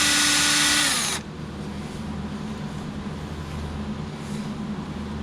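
A power drill whirs at high speed as its bit bores through metal during an ABS wire replacement, starting with a loud bright whine that cuts off after a second into a steady lower grinding hum that continues to the end.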